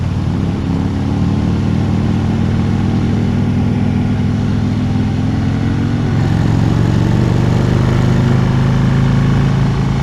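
Steady low rumble of a 2016 Harley-Davidson CVO Road Glide Ultra engine while riding, loud and continuous with dense lower harmonics, thickening slightly in the last few seconds, with no voices.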